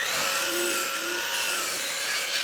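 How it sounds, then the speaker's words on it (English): A miter saw cuts through barn wood, giving a loud, dense, bright buzzing whine throughout the short cut with no talk. "So let me go to the miter saw and cut this off"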